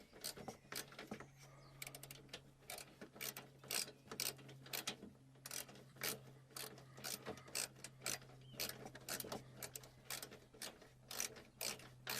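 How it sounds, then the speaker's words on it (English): A ratchet tightens a bolt on the bumper of a 2004 Dodge Caravan, steady runs of fast clicking strokes repeated over and over, close but fairly quiet, with no talk. "Okay, I got another ratchet that might be just better."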